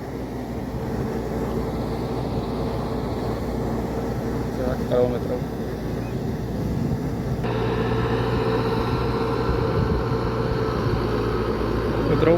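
A tractor engine labours under heavy load while dragging a weighty rotavator through a field, a steady low drone that deepens and grows louder partway through, with someone talking over it.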